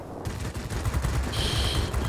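Aircraft machine guns fire in World of Warplanes, a Spitfire V with a DB 605 engine, a continuous rapid rattling burst of gunfire against steady engine drone.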